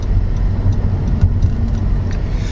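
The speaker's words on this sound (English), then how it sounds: "traffic out here is a lot heavier than I expected for this time in the afternoon" Road traffic rolling past outside a car on a busy afternoon drive, a steady low engine and tire rumble from the cabin with faint passing swells, no talk.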